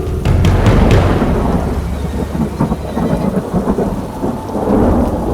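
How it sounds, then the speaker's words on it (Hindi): Heavy rain pours steadily while deep thunder rumbles loudly at the start and again near the end, a dense, close storm with no voices. "ऊपर से इतनी तेज़ बारिश हो रही थी"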